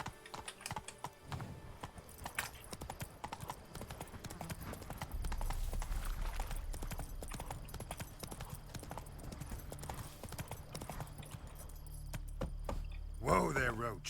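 Geralt's horse Roach galloping in The Witcher 3 video game, with steady rhythmic hoofbeats running throughout under game ambience, along with faint keyboard typing and a brief burst of talk near the end.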